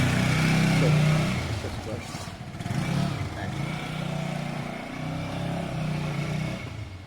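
A motorcycle pulls away, its engine roaring loudly at first and then easing to a steady drone as the bike moves off, with wind noise and brief voices around it.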